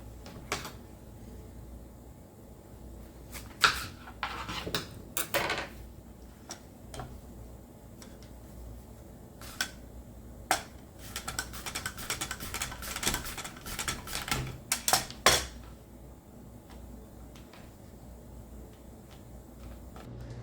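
Sweet potato and banana are sliced thin on a mandoline and with a knife, giving sharp, irregular clicks and scrapes, close up and fairly quiet, bunched into quick runs with short pauses between.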